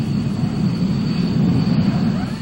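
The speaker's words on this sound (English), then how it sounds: "The basic version of the Tornado is a sophisticated ground attack aircraft." A Panavia Tornado jet aircraft flies with a loud, steady roar and a thin high whine running through it, holding constant throughout without voices.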